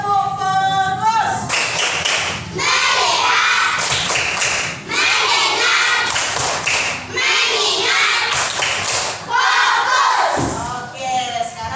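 A class of children in an Indonesian school lesson do a loud, rhythmic group clapping chant. Sharp claps and shouted voices repeat in bursts, close and continuous throughout.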